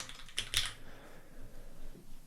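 A few quick keystrokes on a computer keyboard while writing SwiftUI code in Xcode, close and fairly soft, with a brief burst of clicks near the start and then quieter room noise.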